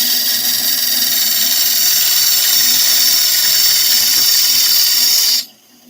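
A woodturning gouge cuts into spinning wood on a lathe, giving a loud, steady broadband hiss and scrape with a constant motor hum beneath, running continuously for about five seconds and then stopping abruptly, leaving quiet.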